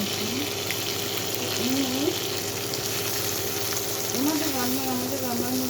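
Bengali spices hitting a hot pan in a home kitchen set off a steady, loud frying sizzle that runs unbroken throughout, with a wavering voice-like tone rising over it at times.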